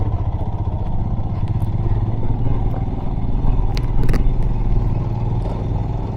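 A Royal Enfield Himalayan motorcycle labours up a rough, high off-road mountain track in first gear, its engine a steady close drone with occasional clatter and thumps from the rocky ground.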